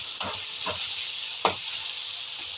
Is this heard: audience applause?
no